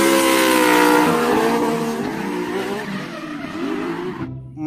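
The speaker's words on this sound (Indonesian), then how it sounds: "Mobil balap." A toy race car effect delivers a loud engine roar with long, wavering tire squeals and skids that fade slightly over about four seconds before cutting out.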